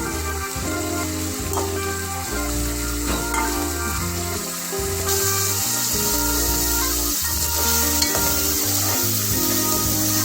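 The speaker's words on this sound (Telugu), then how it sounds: "ఇవి మంచిగా వేగాక కరివేపాకు వేసుకుంటున్నాం." Curry leaves and soaked chana dal sizzle in hot oil for a pulihora tempering: a continuous close crackling fry that grows brighter midway, under background music.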